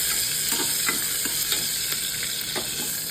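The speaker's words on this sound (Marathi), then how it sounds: "मिरची ॲड केल्यावरती छान असं परत परतवून घ्या." Green chillies for mung dal sizzle loudly in hot oil in a pan, with a steady crackling hiss and a spoon repeatedly scraping and stirring, with no talk.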